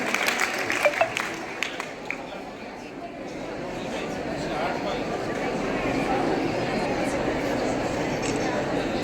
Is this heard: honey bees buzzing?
no